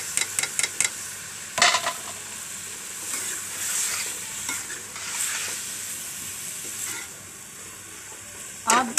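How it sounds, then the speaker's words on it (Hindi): Mixed vegetables fry and get stirred in a pan for a Pakistani aloo matar gajar shaljam dish, giving a steady close sizzle with scattered spoon scrapes and clinks against the pan. "अब इसे मैं 4-5 मिनट के लिए अच्छी तरह से भून लूँगी।"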